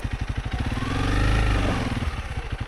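A dirt bike engine runs close by on a steep mountain slope as it is put into gear, a throbbing, pulsing idle that swells briefly in the middle and then settles back, with no talk.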